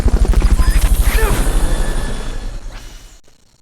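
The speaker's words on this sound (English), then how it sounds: "Fulton recovery helicopter is complete" A video game Fulton recovery helicopter's rotor thumps in a fast, steady rhythm, loud and close, then fades away into silence.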